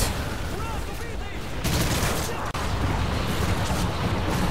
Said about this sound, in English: I'm gonna put an airstrike where, right where he is